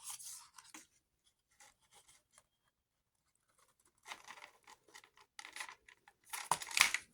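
Scissors snip paper pieces out of a Valentine folio, a few quiet scattered cuts, then a denser run of louder crisp snipping and rustling near the end, with no talking.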